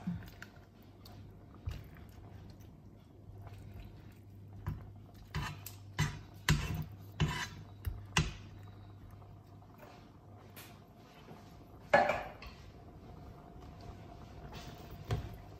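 Chicken wings and vegetables being stirred with coconut milk in a pan, giving soft, scattered clacks and wet squishes of a utensil at close range, with a sharper knock near the end.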